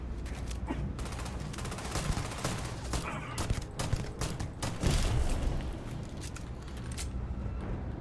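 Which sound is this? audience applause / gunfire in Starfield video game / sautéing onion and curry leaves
gunfire in Starfield video game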